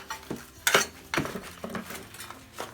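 Aloe vera plant material being mixed together in a bowl, with scattered scraping and clinking strokes in an uneven rhythm, close and fairly quiet, with no talk.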